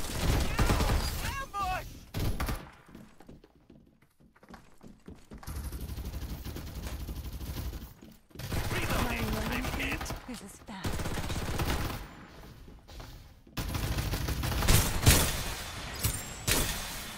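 Heavy gunfire and explosive blasts from artillery in the video game Farlight 84 come in dense bursts with short lulls. Mechanical clanks and game effects are mixed in, and an announcer voice is heard at times.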